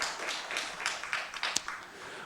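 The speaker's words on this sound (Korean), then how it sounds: "우리 하나님께 영광의 박수를 돌립니다" A church congregation at a Sunday service gives a steady round of applause. The clapping is dense and moderately loud throughout, with a few sharper individual claps standing out.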